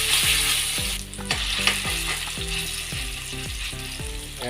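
Eggplant patties, tortang talong, sizzle and crackle in very hot oil, a steady close frying hiss with repeated soft pops and bursts of spatter, no voices.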